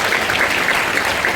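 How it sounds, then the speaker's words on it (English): A seated audience claps for a student at a computer science and AI talk, a steady, even wash of many hands that holds for the whole moment with no voices over it. "you can clap for Satvik"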